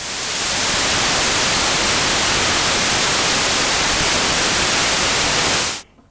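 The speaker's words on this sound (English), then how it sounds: "This is the white noise going directly into VCA4." Raw white noise from a Tinysizer synthesizer routed straight into a VCA: a loud, bright, steady hiss that swells in quickly, holds evenly, then cuts off abruptly near the end.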